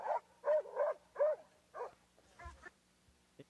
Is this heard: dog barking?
yes